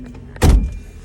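The handbrake lever of a Lada Niva 4x4 is pulled up inside the cabin, one short loud mechanical burst in an otherwise quiet car.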